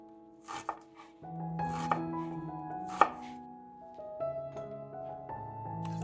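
Knife chopping garlic cloves and ginger on a cutting board, several sharp close knocks set among steady tonal background music, with no voices.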